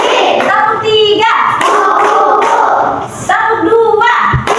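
A classroom of pupils claps in short rhythmic bursts of one, two and three sharp, close hand claps, with a teacher's voice calling the count between the bursts.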